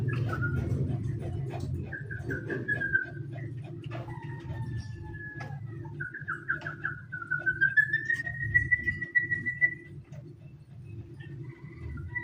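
A pet sooty-headed bulbul sings clear whistled phrases, some rising and sliding, repeated over several seconds against a low steady background hum, fairly close.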